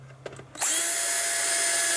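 After a few faint clicks, a power screwdriver kicks in and runs loud and steady, driving screws into a PS3 Slim at close range.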